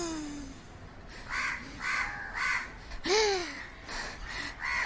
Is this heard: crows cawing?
yes